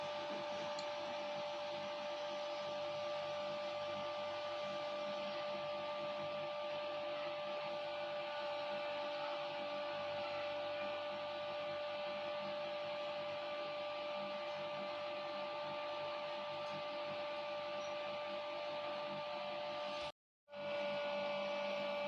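A repaired suitcase-style welding machine with new bearings runs on test, giving a steady electrical whine and fan drone for about twenty seconds before it cuts out abruptly and then restarts.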